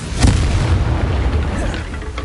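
A loud, booming explosion from the Confringo blast spell in a Harry Potter video game, one heavy rumbling burst that fills the short moment up close.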